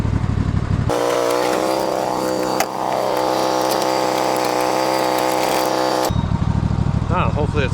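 A small motorized buggy engine runs loud and steady while bricks are moved in an overgrown yard, its drone rising and falling briefly midway, with people talking over it before and after.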